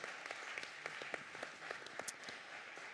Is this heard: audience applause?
yes